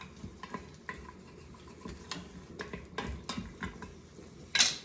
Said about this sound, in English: let them saute in those 2 tablespoons of butter